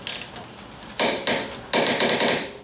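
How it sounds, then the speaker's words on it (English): A wrench torques the long upper control arm through-bolt on a first-generation Toyota Sequoia to about 80 foot-pounds. It makes three or four sharp metallic clunks and ratcheting scrapes that are close and fairly loud, with no talking. "torque this long upper control arm through bolt, and the torque spec is right around 80 foot-pounds"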